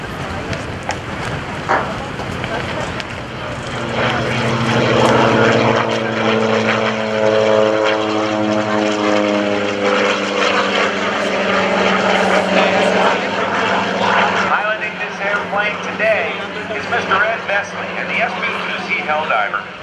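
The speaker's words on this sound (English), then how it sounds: "a very rare World War II aircraft built by Curtiss, known as the SB-2C Helldiver, the big-tailed beast." A rare Curtiss SB2C Helldiver, a WWII propeller dive bomber, passes at a US Navy airshow, its piston engine droning loud and steady as it approaches and recedes, with crowd or commentary noise underneath.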